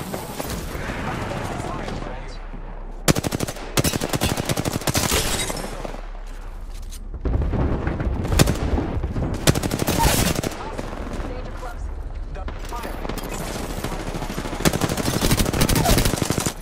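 Machine gun fire in a shooter video game, long rattling bursts of automatic shots broken by short pauses, loud and close, with game voice callouts over the battle.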